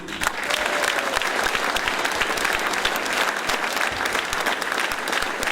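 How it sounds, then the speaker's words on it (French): Crowd applause at a political campaign rally in Rivière-Salée, sustained and dense clapping from many hands, fairly distant and even throughout without any talk over it. "je voudrais que vous applaudissiez le Front pour l'Unité"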